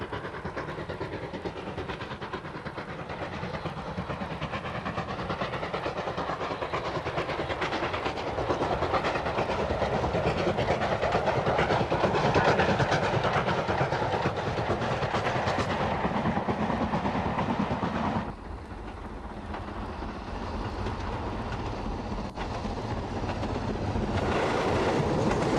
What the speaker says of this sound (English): leaving just these semi-fast trains running from Marylebone to Nottingham